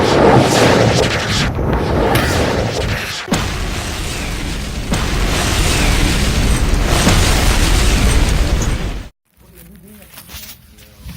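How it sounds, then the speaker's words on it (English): Artillery explosions in a World War I battle boom and roar continuously, with heavy blasts and crackling bursts layered densely, a sharp hit partway through, then cutting off abruptly to quieter aftermath. "Oh boy, an artillery attack!"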